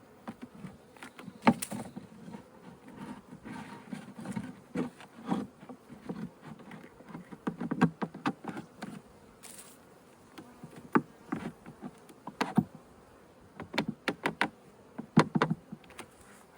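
Honey bees buzz around backyard hives during a colony check, a steady insect drone with sharper passes as individual bees fly close by the microphone, no talking.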